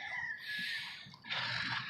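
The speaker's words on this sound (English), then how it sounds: "hear the roosters going off." Roosters crow in the early-morning dark, two drawn-out calls one after another, fairly faint and distant with no talk over them.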